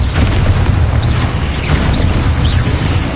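A Confringo explosion spell in the video game Hogwarts Legacy goes off in repeated booming bursts over a dense, continuous wash of game noise, loud and close throughout.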